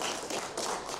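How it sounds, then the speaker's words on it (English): A live show audience at Harvest Hall gives a round of applause. Dense, steady clapping holds for about a second with no voices. "big round of applause"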